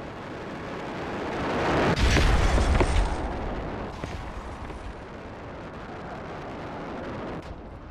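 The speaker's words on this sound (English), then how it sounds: "I did have a meteorite come down right on top of my mech crab" Meteorite slamming down onto a mech crab in the survival game Osiris: New Dawn, a heavy booming impact with a rumbling burst that rolls on as a long, dense roar over several seconds.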